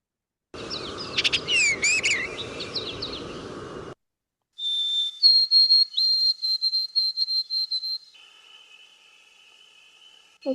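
White-throated sparrow song, a series of long, pure, steady whistled notes that drop in pitch near the end, following a brief burst of other jumbled bird chatter.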